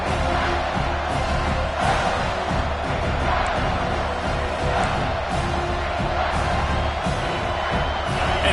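A football stadium crowd roars steadily after a big third-down play, a dense loud wall of cheering and whoops that holds for several seconds, with faint commentary beneath.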